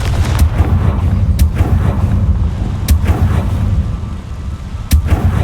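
Confringo fire spells blast in the game Hogwarts Legacy, a run of loud, sharp explosive bursts at uneven intervals over a heavy low rumble, with no talking.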